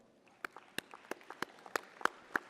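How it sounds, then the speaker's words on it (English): A handful of sharp, separate handclaps from graduates at a medical school spring commencement, applauding their family and friends; about ten distinct claps in a loose, uneven rhythm, growing slightly louder toward the end, with no speech. "give each and one of these individuals a standing ovation and an applause,"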